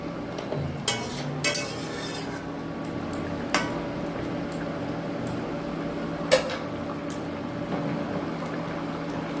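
Nile tilapia pieces going into a simmering fish curry, with faint bubbling and a few soft clinks of utensils against the pot at close range, no talking.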